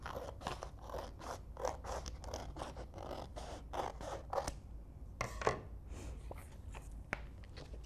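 Scissors cutting glow-in-the-dark heat transfer vinyl, with a quick run of soft, close snips and crunches followed by a few sparser cuts, all fairly faint.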